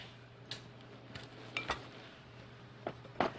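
Scone ingredients mixed in a bowl with grated lemon zest: faint, sparse clinks and taps of a utensil against the bowl, a few isolated ticks over a quiet kitchen hum.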